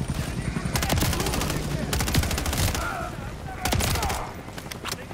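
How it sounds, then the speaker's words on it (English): Modern Warfare 3 combat gunfire, bursts of rapid automatic shots in several volleys, loud and close, with a voice talking over parts of the action. "Alright, we're going guns blazing now."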